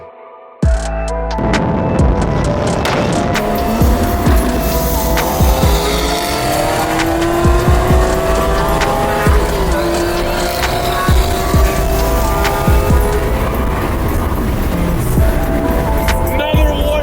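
A Lamborghini Aventador drives at night on the way into LA, its engine loud and close throughout with rising and falling revs, shifting pitch sweeps and occasional sharp bursts.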